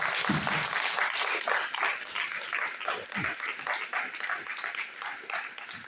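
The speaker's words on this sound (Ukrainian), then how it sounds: "Прошу аплодисмент." An audience at a gathering at the Barvinok centre claps in a lively burst. The applause is close and steady, with some clearly rhythmic clapping running through it.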